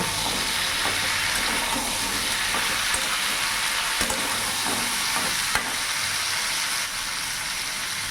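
Turmeric and chili powder being stirred into vegetables frying in oil for a Bengali stem chorchori: a continuous sizzle with soft hiss and occasional scraping clicks of a spatula against the pan.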